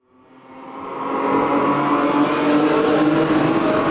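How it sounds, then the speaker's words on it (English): Chevy Opala 1979 stock car in the racing game Automobilista 2 at Londrina Long, its engine swelling from quiet to a loud, steady full-throttle roar that holds to the end, with no talk. "We're going to take the Chevy Opala stock car out on the course against the AI at Londrina Long in a 3-lap race starting 12th"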